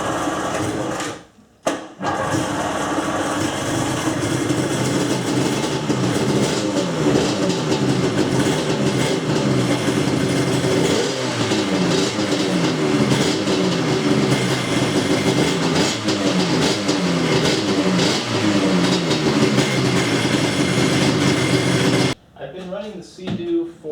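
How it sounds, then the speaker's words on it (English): A Seadoo jet ski engine runs steadily on a water hose for cooling, a loud continuous mechanical drone with a rapid rhythmic chatter that holds for about twenty seconds before cutting off, with brief quieter moments at each end. "Running the Seadoo for a few minutes."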